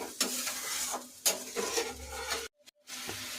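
A spice paste is stirred with a little water in a pan for a pabda fish curry, soft sizzling broken by sharp spoon scrapes against the metal, close, with a brief silent gap near the end.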